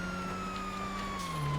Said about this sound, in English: We got sirens. We can have some wee woos.